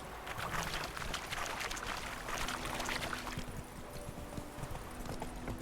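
A horse gallops in The Witcher 3, its hooves clip-clopping in a quick, steady rhythm at moderate volume, with a brief whinny.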